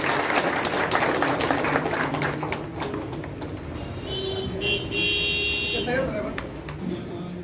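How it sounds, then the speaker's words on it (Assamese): Crowd applause at a gym grand opening, a dense burst of clapping that thins out after a few seconds while voices and a loudspeaker announcement carry on over the room. "আপোনালোকে যাতে হাত চাপৰি দিয়ে ভাল লাগিব চবেই।"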